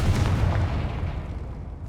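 Confringo fire spell blast in the Hogwarts Legacy video game, a loud deep booming explosion with a rumbling low-end roar that slowly fades over about two seconds, with no talking.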